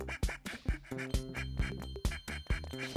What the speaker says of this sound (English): Man, these ducks are loving it.